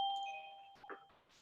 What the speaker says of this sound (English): And I apologize for the doorbell.